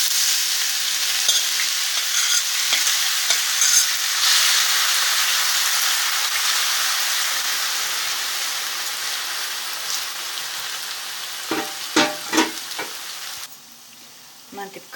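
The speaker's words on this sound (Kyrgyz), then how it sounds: "Эми кызарта кууруп алабыз." Grated potatoes fry in a pan of hot oil, a dense, even sizzle that runs steadily and slowly eases, ending with a few louder crackles and stirring sounds near the close.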